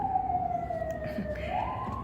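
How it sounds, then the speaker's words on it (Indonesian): A distant emergency siren wails with a slowly falling then rising tone over faint background noise. "Mohon maaf ada sirine."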